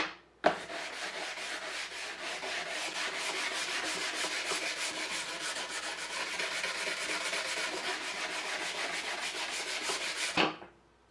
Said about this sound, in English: I'll start with the coarse brush and finish with the fine brush.